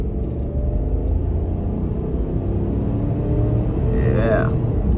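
A 2023 Chevy Tahoe Premier's large V8 engine hums and rumbles steadily at half throttle, with road noise throughout and a brief whine near the end.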